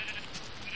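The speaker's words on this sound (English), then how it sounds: "I'll go check if I kill the sheep." A single short sheep bleat from Minecraft, a nasal wavering cry heard close and alone.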